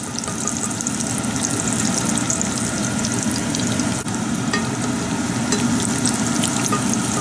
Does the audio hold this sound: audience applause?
no